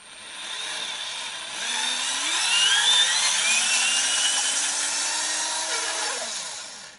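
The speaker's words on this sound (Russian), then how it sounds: "Взял шуруповерт." A cordless drill-driver whines as it spins out cylinder head bolts on a VAZ 2109, a close, steady motor drone rising and falling over several seconds with no talking.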